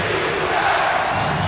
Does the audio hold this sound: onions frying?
no